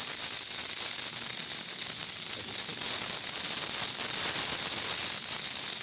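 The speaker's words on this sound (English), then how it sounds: "Now that it's warmed up, we can open this knob and get a really good steam." A steam knob on a warmed-up machine is opened after a repair and releases a strong, constant hiss of steam that stays loud and even throughout, with no voices.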